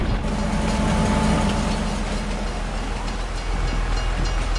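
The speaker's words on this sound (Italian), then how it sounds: "Attenzione, attenzione, c'è un treno." A train rumbles past in Farming Simulator 22, a steady, loud, broadband roar with low engine drone that holds throughout with no pauses.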